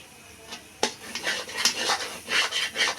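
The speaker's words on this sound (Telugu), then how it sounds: "వేసుకున్న తర్వాత బాగా వేపుకోవాలండి బాగా కలుపుకోవాలి" Egg curry stirred and fried in a pan with cumin and coriander powder, a spoon scraping and clinking against the metal in uneven strokes, close and moderately loud, no talking.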